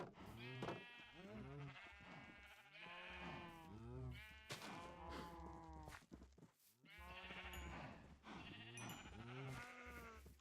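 Several sheep in a video game, fed wheat for breeding, bleat repeatedly in overlapping wavering calls, close and clear, with a steady low hum underneath.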